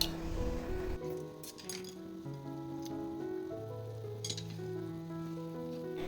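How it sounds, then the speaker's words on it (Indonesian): A home-cooked coconut-milk dish with salt, sugar and mushroom seasoning is stirred in a pot, giving soft sizzling and occasional utensil clinks under a bed of quiet, sustained music. "Setelah itu kita aduk hingga merata dan tunggu hingga benar-benar matang."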